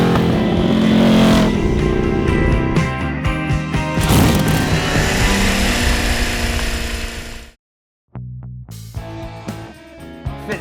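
A Ducati Scrambler motorcycle engine runs loud and close while riding, rising and settling with throttle, then cuts to brief silence before a quieter stretch of engine and clatter.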